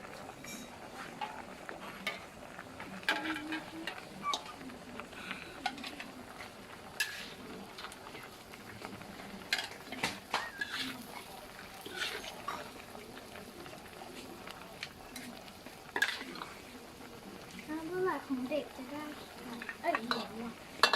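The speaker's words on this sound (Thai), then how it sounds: "รอให้มันเดือดให้มันผัดสุกนิดนึง" Pork ribs with wild honey stir-frying and bubbling in an iron pan, with a steady moderate sizzle broken by scattered clinks of a utensil against the metal, while voices talk over it.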